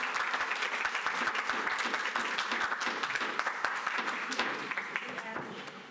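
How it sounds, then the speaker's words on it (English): Audience applause at a city planning commission meeting, a dense burst of many hands clapping in a hall, sustained and slowly fading toward the end. "We'd ask that you hold your applause so that we can keep this meeting going in an orderly manner"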